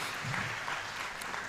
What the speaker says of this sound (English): Let's give a round of applause to the Kenya Law Reports.